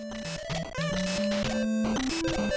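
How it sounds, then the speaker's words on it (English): A dense, chaotic burst of chiptune sound from the DuckTales game, where a piranha plant gives off a harsh, grating screech over the level music, loud and continuous throughout. "Why does this piranha plant sound like this?"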